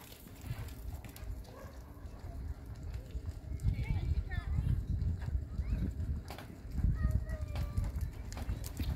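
Horses cantering in a group ride with hooves clip-clopping in irregular bursts across soft ground, moderately close, with a voice calling instructions and birds chirping in the background.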